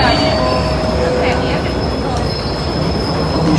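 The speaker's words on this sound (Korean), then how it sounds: "9시 그드니아행 기차입니다" PKP Intercity train at a Warsaw Central station platform, loud rumbling with sustained high wheel squeal and brief metallic clicks, close and continuous.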